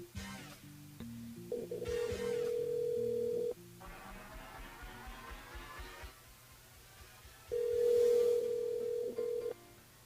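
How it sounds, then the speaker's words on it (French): An electronic phone ring sounds twice, a steady high tone in long bursts separated by a pause, loud over a quiet, muffled background. "Mais il y a des sonneries là"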